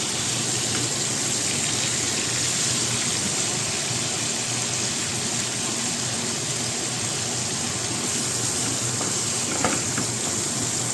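Food with garlic frying in a pan, a loud continuous hiss and sizzle held steady up close, with a faint scrape of stirring near the end and no voices.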